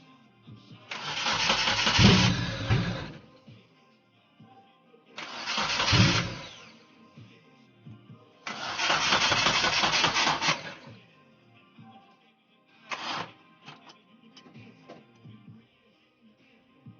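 A car engine cranks over without firing, in four attempts: three long grinding cranks of about two to three seconds each with pauses between, then a brief final crank. Loud, close and mechanical.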